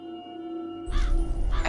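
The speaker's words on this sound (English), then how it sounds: "I hear birds." Harsh crow-like caws burst out in cold, damp outdoor surroundings, loud and fairly close, starting partway through after a quiet stretch of low steady hum and continuing in repeated calls.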